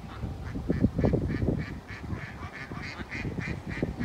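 Ducks quacking in a busy, overlapping chorus close by at a lake, a steady run of nasal honking calls with no pauses and no talk.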